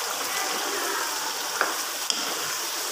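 Aubergines and potatoes fry in a pan with a steady, dense sizzle throughout, broken by a couple of sharp little pops or spatters partway through, close and even with no talking.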